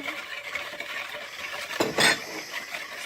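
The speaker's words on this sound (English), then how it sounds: "And then you're going to whisk this together." A whisk stirs a vanilla and Himalayan salt mixture in a bowl for snow ice cream, giving quiet, quick scraping and clinking close by, with a brighter clatter near the end.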